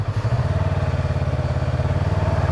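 A Yamaha R25 motorcycle engine runs close by with a rough, uneven pulsing idle, sputtering and stumbling in a rapid irregular rhythm throughout, with no talk over it.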